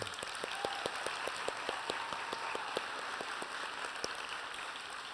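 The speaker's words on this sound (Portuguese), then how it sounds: "Vamos fazer a salva de palmas para o Paulo" Audience applause at a gastronomy conference, steady sustained clapping from a crowd heard from a distance, fairly faint and even throughout.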